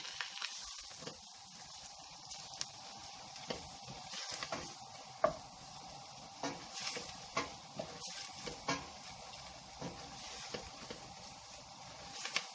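A spoon stirs a crab spice mix of ginger powder and chili powder in a pan, a soft continuous scraping and swishing with faint sizzle and scattered small clicks, close and moderately quiet with no speech.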